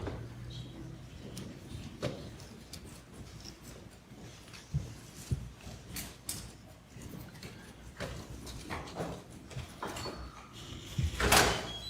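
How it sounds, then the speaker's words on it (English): A courtroom door opens amid a busy stretch of shuffling, clicks and handling noises, with a louder rattling burst near the end and no clear speech. "Can you open that door?"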